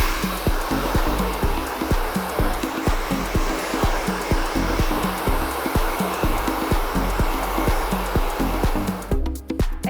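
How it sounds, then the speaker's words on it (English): Hair dryer power drying hair at a salon styling session, a loud continuous motor whir with rapid rhythmic pulsing, heard close and alone before cutting off near the end. "So then we'll start off with power drying the hair."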